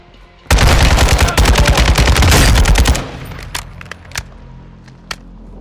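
An AK-47 in Call of Duty Modern Warfare 2 fires a loud, sustained automatic burst for over two seconds, then a few scattered single shots and clanks trail off against quieter ambience.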